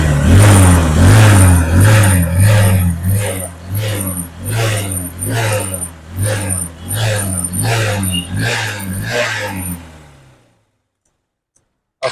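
A used motorcycle engine running close up, throttle blipped in a regular series of revs over a rough idle, then cutting out to near silence near the end.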